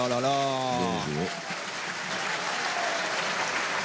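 Crowd in the Fréjus arena applauding at a Masters pétanque semi-final, a steady broad clatter of clapping that swells after a voice over the first second and carries on to the end.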